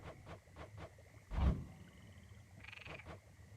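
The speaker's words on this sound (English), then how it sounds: "Okay, it's frogs croaking." Frogs croak in a Hades II scene, a series of short rasping calls repeating at intervals over a quiet ambient bed, with one louder, deeper croak standing out near the middle.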